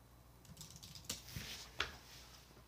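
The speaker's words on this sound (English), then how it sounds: "Then what you do is type in Intel" Soft, quick keystrokes on a computer keyboard tap out a short burst of typing with a few sharper clicks, quiet and close in a still room.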